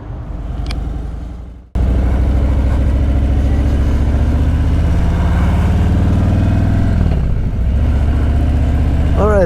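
A 2020 Harley-Davidson Road King motorcycle engine idles loud and close, then after a short dropout rumbles on steadily with a low throbbing pulse, its pitch shifting slightly near the end.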